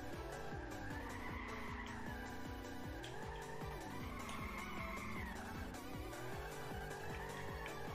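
Car tires screeching continuously in the video game Drift86, a loud sustained squeal that rises and falls in pitch over a rhythmic engine drone.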